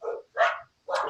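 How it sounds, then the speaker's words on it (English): Dogs bark excitedly nearby in three short, loud, separate barks with brief gaps between them, heard alone without talk. "We've got some dogs going crazy here."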